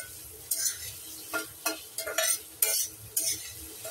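A spoon scrapes and stirs through onions and tomatoes in a pan, with about six distinct stirring strokes over a faint background sizzle and no voices.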